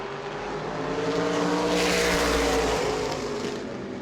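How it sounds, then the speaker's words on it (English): Stock race cars at New Smyrna roar past on track, a loud sustained engine drone swelling and easing as the pack passes, with no talk over it. "Third place car off turn number 4, dealing with the Frank Pelkey machine."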